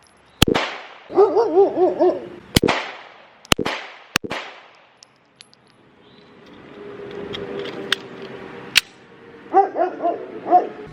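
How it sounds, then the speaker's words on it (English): A friendly dog barks in several quick bursts outdoors, loud and close, with sharp bangs and some vehicle rumble between the barks. "look, it's Grizzly the friendly dog"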